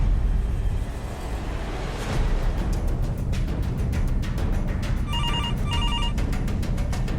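A telephone bell rings in short repeated bursts over steady background noise in a busy room, the rings fairly clear and near, with no talking.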